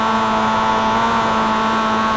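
Mazda MX-5 roadster racing at Suzuka in a sim racing game, a steady loud engine and exhaust drone holding a constant pitch throughout, with no talk over it.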